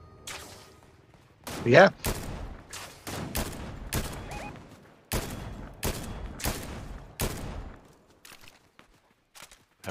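Bursts of video game gunfire: a loud burst near two seconds, then a string of sharp, evenly spaced shots through the middle, thinning to faint taps at the end, with a brief spoken word.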